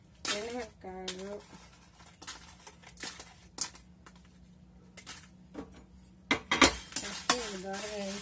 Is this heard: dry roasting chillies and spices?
yes